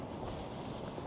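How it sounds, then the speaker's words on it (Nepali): Wind blows steadily on the ocean coast at Sagres, Portugal, a dense low roar buffeting the microphone with faint surf beneath it, continuous and fairly quiet. "हावा लाग्यो हावा"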